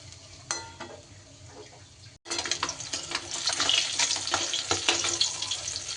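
Catfish pieces fry in hot oil in a pan, a dense crackling sizzle that jumps louder after a brief gap and then stays steady and close.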